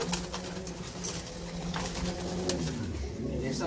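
Racing pigeons coo in soft repeated low calls close by, overlapping in a steady murmur with faint rustling.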